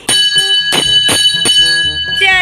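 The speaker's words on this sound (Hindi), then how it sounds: "ऊपर है घंटी, लेकिन रवि को बजाना है।" A small brass hand bell rings loudly during Navratri worship at home, struck in a steady series of bright, ringing clangs with long overlapping tones and a faster flurry at the end.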